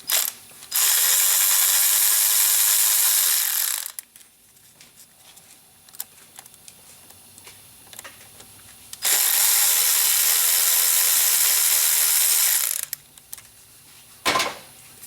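Ratchet with a Torx T25 bit loosening screws on a common-rail TDI engine, two long bursts of rapid, close, loud clicking separated by a quieter pause with small handling noises, ending in a short final burst.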